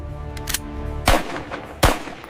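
A gun is fired at a stone target outdoors in a village, two sharp, loud shots cracking out less than a second apart over a faint background hum.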